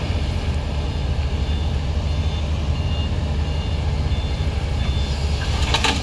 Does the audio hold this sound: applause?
no